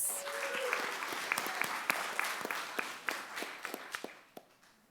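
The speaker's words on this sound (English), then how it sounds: "Let's give them a big round of applause." Applause from an audience at a board meeting, a dense steady patter of many hands clapping with a few sharper individual claps, fairly close and tapering slightly toward the end.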